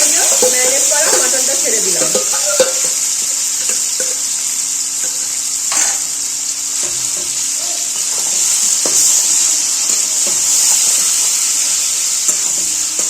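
Mutton fries village-style in hot oil with garlic while being stirred: a loud, steady sizzle runs throughout, with scraping stirs of the spoon in the pan and a brief voice near the start.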